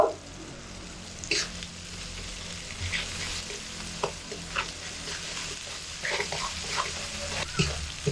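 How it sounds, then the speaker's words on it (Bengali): Spices and ground cashew paste are cooked together in a pan, giving a quiet, steady sizzle punctuated by occasional spoon scrapes and taps against the pan, with no talking. "সবকিছু একসাথে খুব ভালো মতো করে 2 থেকে 3 মিনিট সময় ধরে কষিয়ে নিলাম"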